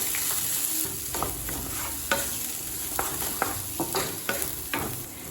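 Beans and chana dal being sautéed in a pan, with a steady sizzle and irregular scraping stirs of a spoon against the pan, close and moderately loud, no talking.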